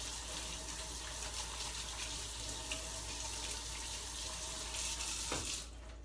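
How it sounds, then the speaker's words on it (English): Water runs steadily from a kitchen tap for hand washing, a close, continuous broadband rush that cuts off abruptly near the end, leaving quiet room tone. "I'm gonna wash up my hands here real quick."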